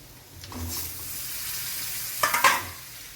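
Mashed boiled potatoes mixed with dry spices in a pan for Gujarati batata vada, with a soft sizzling hiss and a short burst of scraping strokes near the end, close and without speech.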